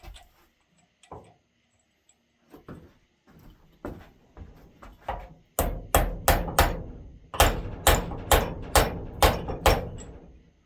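A big hammer beats a hub into the steering knuckle of a right-hand-drive Honda del Sol GSR. Sharp metallic strikes begin as sparse, lighter taps and build into a fast, loud series of heavy, ringing blows, close by and with no talk.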